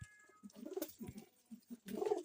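Pigeons in a pigeon loft give soft, rounded coos in short repeated bursts, faint but clear, with no talking.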